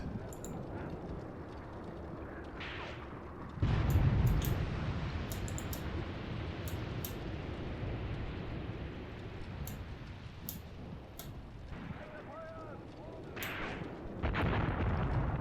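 A short artillery salvo, five rounds per gun, in the Graviteam Tactics: Mius Front war game, heard as distant booming gunfire with rumbling reports and scattered sharp cracks over a steady low background.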